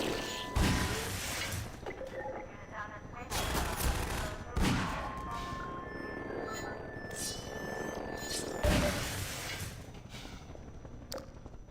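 Gunfire in Half-Life, with a few heavy broadband shots separated by several seconds and lingering reverberant tails, over a steady electronic game hum and scattered mechanical clatter.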